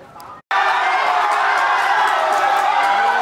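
A Phetchabun fan club crowd cheers and shouts at an FA Cup football match, a dense, loud roar bursting in after a brief silent gap and holding steady to the end.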